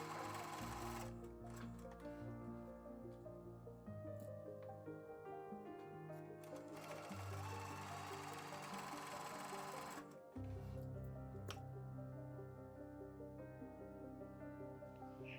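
A sewing machine stitches along the seams of a fabric face mask, running in steady motorized bursts with brief stops and restarts, close and clear with no voices.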